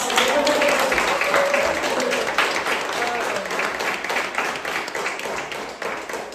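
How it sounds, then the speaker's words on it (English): Audience applause at an art gallery event on shamanism and Korean diaspora art, a dense sustained wash of clapping that fades slightly toward the end, with a few voices calling out over it. "final round of applause for this beautiful"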